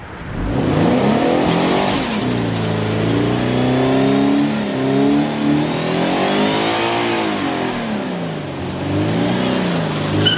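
A Scion FR-S sports car on stock tires accelerates hard, its engine note rising and falling through repeated revs and shifts, loud and steady from start to finish with no voices.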